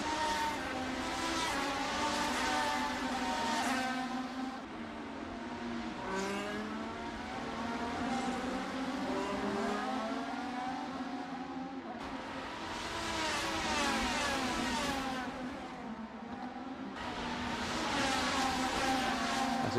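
Formula One race cars in a racing video game roar past at Circuit de Barcelona-Catalunya, engines whining loud and continuous with rising and falling pitch as cars sweep through the final corners, no talk over them.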